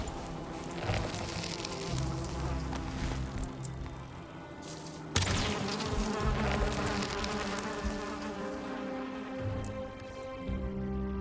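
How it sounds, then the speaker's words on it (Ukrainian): Bees buzz continuously at a beehive in the Valheim video game, a dense droning hum with shifting pitches and a sharp break partway through, with no speech. "тут, можливо, вулик є."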